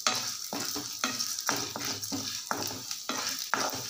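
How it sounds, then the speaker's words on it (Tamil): Chana dal fries in oil for kola urundai, a quiet sizzle broken by brisk stirring scrapes about twice a second. "கடலப்பருப்பை கருக விட்டுறாமல் எண்ணெயில் நல்லா வறுத்து எடுத்துக்கோங்க."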